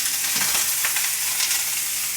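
Sliced zucchini frying in hot olive oil in a pan gives a steady, close, crackling sizzle that stays even throughout, with no voices.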